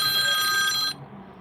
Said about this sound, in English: this phone scared the bejesus out of me